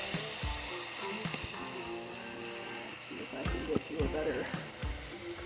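Sausage browns in a pan for sausage gravy, a steady close sizzle and crackle with occasional scraping stirs, while a person talks briefly over it.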